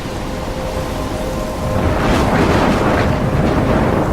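Thunderstorm in the video game Life is Strange: dense, heavy rain pours throughout, and a deep rumble of thunder swells halfway through and rolls on loudly.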